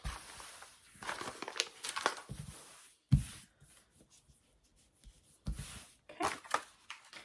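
Backing paper is peeled off fusible interfacing for a sewn bag, giving bursts of close crinkling and crackling paper with sharp tearing snaps and short pauses between pulls.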